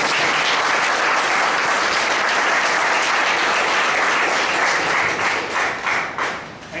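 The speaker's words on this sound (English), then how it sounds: "A big round of applause to Manjunath for that." A roomful of people at a Toastmasters evaluation session clapping for a speech: steady, dense applause held at an even level, then thinning into scattered claps toward the end.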